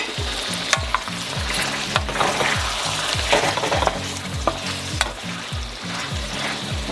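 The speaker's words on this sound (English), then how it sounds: "we're just gonna let this sizzle in the pot" Loud, continuous sizzling and crackling of meat frying in a pot, with rhythmic scraping and clanks of stirring close up.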